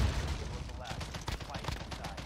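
Gunfire and blasts in the Call of Duty Modern Warfare 2019 multiplayer match, with a hit from a launched grenade landing close by, all mixed with voice chat and game noise.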